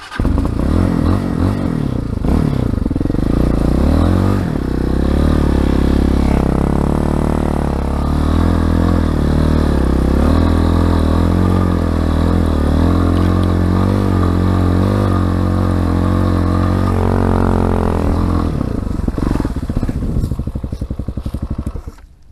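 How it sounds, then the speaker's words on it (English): A Tbr7 250cc motorcycle climbs a muddy hill in second gear, its engine loud, close and steady, labouring and rising in pitch, then cutting off abruptly near the end. "I wanted to go nice and slow through the mud here, but I wanted to stay in second gear to have enough to get it up the hill."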